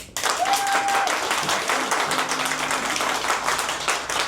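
A crowd claps and applauds continuously, dense and lively, with no cheering voices rising above it.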